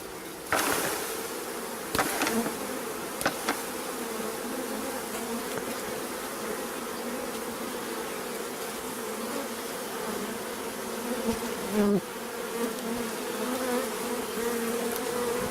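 A dense, steady drone of many honeybees buzzing close by inside a bucket, with a few sharp knocks and bumps breaking through the hum.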